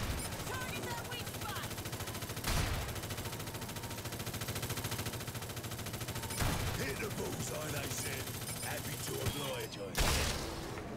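Sniper rifle and other gunfire in the video game Evolve, sharp loud reports at intervals over a constant bed of rapid fire and game noise.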